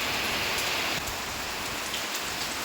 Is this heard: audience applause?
no